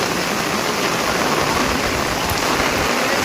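Steady heavy rain pours down at a hanging footbridge in Kalasa, a dense continuous hiss filling the scene from start to finish with no voices.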